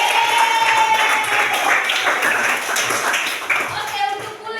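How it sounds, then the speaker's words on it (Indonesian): A group of people clap together in a classroom, a steady dense patter of many hands close by, with a few voices and chatter mixed in throughout. "tepuk tangan dulu kita semua."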